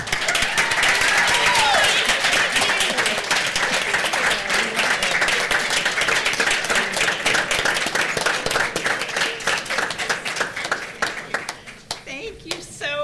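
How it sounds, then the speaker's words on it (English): An audience at a social-problems event gives a long round of applause for Reverend Dr. Chloe Breyer, loud and rhythmic clapping that runs for over ten seconds, then thins out as a voice begins speaking near the end. "Again, a round of applause for Reverend Dr."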